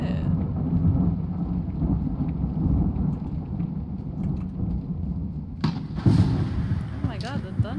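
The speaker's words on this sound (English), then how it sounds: "Oh my god, the thunder." Thunder in the video game Escape the Backrooms, a low, heavy rumbling that rolls through the whole clip with a sharper crack near the end, under players talking.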